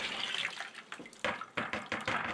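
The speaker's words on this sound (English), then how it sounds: "when I get a good amount, I'll add water to it." Water poured onto dried clay scraps for Pueblo pottery, heard as close splashing, pouring bursts that start and stop irregularly, fairly quiet and alone.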